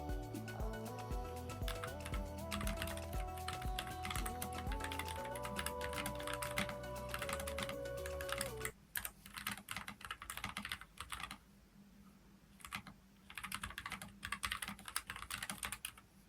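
Close, quiet typing on a Keychron K3 Max keyboard with red switches and black keycaps, rapid clicky keystrokes running continuously at first, then breaking into shorter bursts with brief pauses, behind soft background music.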